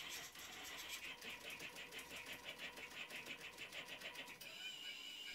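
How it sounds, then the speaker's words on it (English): A CNC plotting machine tracing a pattern of concentric circles and straight lines, giving a fast, steady mechanical buzzing rattle that pulses evenly for several seconds before shifting tone, quiet and alone. "With sending the start command, the machine begins to plot the file"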